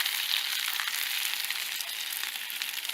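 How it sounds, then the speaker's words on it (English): Pasta all'assassina sizzles steadily in a pan, a dense continuous crackle of frying with small pops, close and alone with no talk. "Here it's sizzling"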